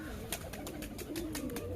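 Giribaj pigeons of the Kalpetiya line cooing steadily at close range, a continuous low warble with a few brighter wingbeat-like or scratchy bursts over it.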